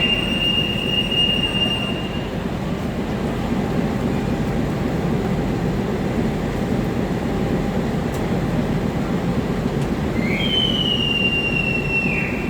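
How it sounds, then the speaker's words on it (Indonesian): The Sangkuriang passenger train departs Surabaya Gubeng station, rumbling steadily along the tracks with a constant low roar, wheels squealing sharply near the start and again toward the end. "Kereta api Sangkuriang berangkat stasiun Surabaya Gubeng."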